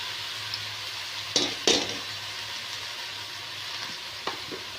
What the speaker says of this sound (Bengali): আমি যে ঝিঙেটা রেখেছিলাম সেই ঝিঙেটাও দিয়ে দিচ্ছি, একসাথে ভালো করে কষে নেব